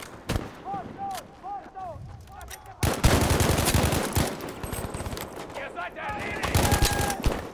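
Heavy video game gunfire from both sides, a dense burst of loud rapid shots and booms that erupts after a few scattered early shots, with a player talking over it.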